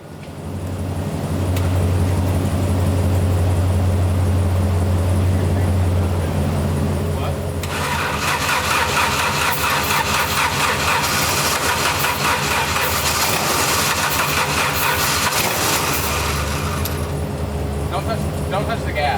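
An abandoned Jeep engine cranks and catches, then settles into a loud, rough idle that runs steadily with a shifting rattle and hiss, while people talk nearby.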